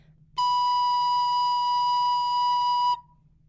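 One recorder note on B is held as a whole note, about two and a half seconds long, steady and pure, played alone over a faint background hum.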